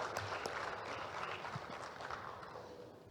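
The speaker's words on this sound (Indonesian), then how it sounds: "Kita tepuk tangan untuk Udayana" Audience applause for winners at a book review competition award ceremony, a steady wash of clapping across the whole stretch, moderately distant and fading slightly toward the end.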